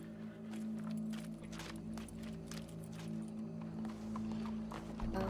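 Horse hooves clip-clop in Red Dead Redemption 2, a steady run of quick hoof strikes on hard ground over a constant low hum, moderately close and without voices.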